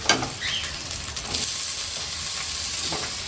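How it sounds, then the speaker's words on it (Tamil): Tomatoes sautéing in a hot pan give a steady, close frying sizzle with a bright hiss that runs through the whole stretch, and a brief stirring clatter near the start. "தக்காளி நல்லா வதங்கட்டும்"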